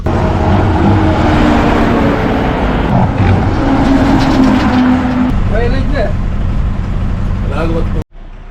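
A Byndoor to Kollur SVMS bus pulls away with a loud, steady engine rumble and road noise throughout, a few faint chirps over it, then an abrupt drop near the end.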